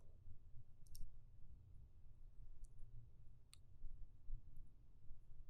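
Computer mouse clicks as a button is pressed on screen, a few sharp, faint, isolated clicks spaced apart over a low background hum.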